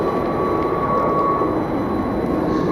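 A jet airliner departs Cleveland airport, a loud, steady roar of engines close by, with a thin whining tone over the broad noise throughout.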